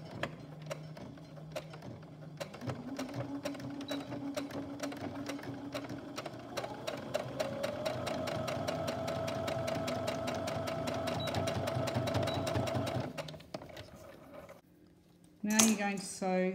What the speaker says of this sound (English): Now you're going to sew around the outside of it all.